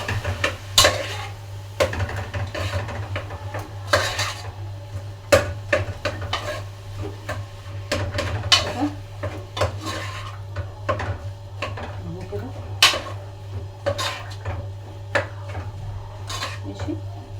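A utensil stirs and flips food in a metal pan, with frequent clinks and scrapes, knocks of cookware and a steady low hum underneath throughout.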